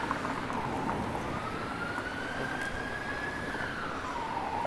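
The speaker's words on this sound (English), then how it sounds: "I hear sirens behind me" A distant siren wails with a slowly rising and falling tone under steady road and traffic rumble on a city street in Toronto, audible continuously throughout.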